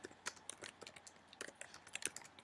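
Rapid typing on a computer keyboard entering a task description, a dense run of light irregular key clicks up close with no voice.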